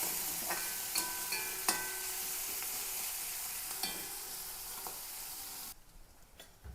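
Crushed onion, garlic and green chilli sauté in a pan with curry leaves, producing a steady loud close sizzle with occasional stirring clicks and scrapes, easing toward the end.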